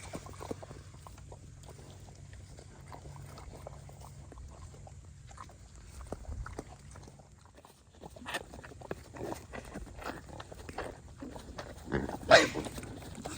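Quiet farmyard scuffling with faint grunts and snorts from pigs, light shuffling movement, and a brief louder squeal or scuffle near the end as small pigs are roughed up.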